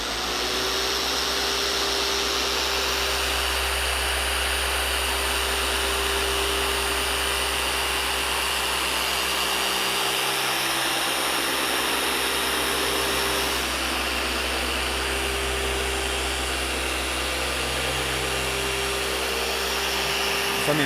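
A machine polisher runs at a high speed setting on the paint of a 2022 BMW G80 M3 Competition xDrive, giving a steady loud motor whine and drone that holds unbroken throughout.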